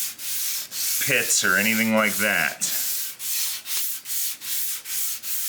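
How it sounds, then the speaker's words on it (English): Hand sanding with 400 grit sandpaper makes rhythmic back-and-forth rubbing strokes, close and fairly loud, with a person briefly talking over the first strokes. "Now it says I'm supposed to sand to 400 grit next."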